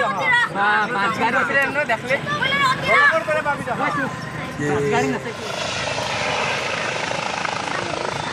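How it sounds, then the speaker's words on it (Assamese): A landing helicopter's steady rotor drone rises beneath excited voices talking at Bhalukghata, Boko, Assam, then continues alone as a loud, even whirring roar. "আহিছে হেলিকপ্টাৰত, আহি পাইছেহি, লেণ্ড কৰি আছে বৰ্তমান।"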